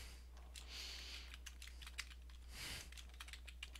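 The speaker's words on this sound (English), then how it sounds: "Then I type in the name of the file." Typing on a computer keyboard to enter a file name while saving a document. Quiet, irregular key clicks come in quick bursts over a low steady hum.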